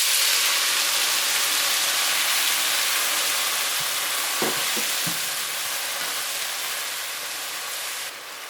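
Shredded carrots and beef stir-frying with udon sauce in a hot pan, a steady broad sizzle throughout with a few clacks of stirring near the middle, fading slightly toward the end, no talk.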